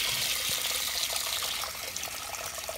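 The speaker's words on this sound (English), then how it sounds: "here's hot water coming out." Hot water runs steadily from an opened valve on a home heating system, a continuous close hiss and splash that lasts the whole moment and eases slightly toward the end, with no voices.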